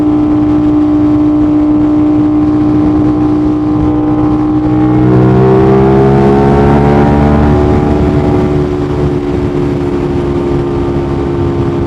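An Aprilia RS660 sport motorcycle runs fast in fourth gear at about 90 mph. A loud, steady engine drone with wind rush continues throughout, and its pitch climbs and broadens partway through as the throttle opens.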